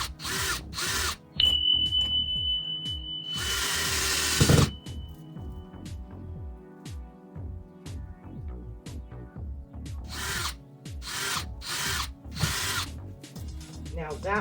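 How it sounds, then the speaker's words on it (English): Power drill driving a screw into a wall anchor, with several whirring bursts and ratcheting clicks in between, close by and loud. "I'm going to screw in my first screw."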